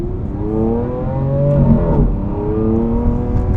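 A 2014 Lamborghini Aventador 50th Anniversary engine hums and revs from inside the cabin while driving, its pitch sweeping up and settling in a smooth, loud drone.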